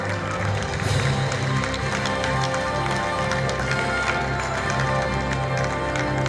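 A crowd at the Kazan Islamic Clothes 2018 fashion festival applauds, producing sustained, even clapping with some crisper individual claps standing out, loud and continuous from start to finish.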